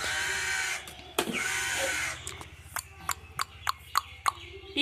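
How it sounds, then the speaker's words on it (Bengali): Several crows caw outdoors, first in a long harsh stretch and then in a run of short repeated calls at mid distance, with a low rumbling hum beneath. "তা না কাকগুলো ডাকছে দেখেছিস কেমন"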